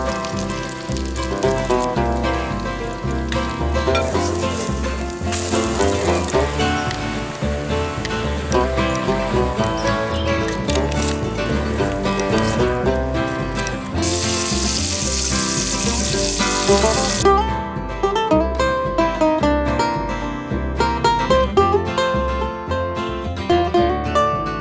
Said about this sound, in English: I'm making pancakes, and well, I made some bacon